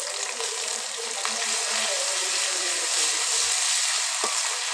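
Cumin, fennel seed, onion and ginger paste hiss and sizzle steadily in oil with already-fried onions for a jackfruit seed dish, a continuous close bright frying noise with a faint clink or two.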